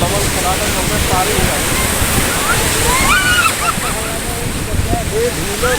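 Sea waves washing onto a sandy beach near Chennai, a steady loud roar of surf and splashing water close by, with a voice calling out faintly over it partway through.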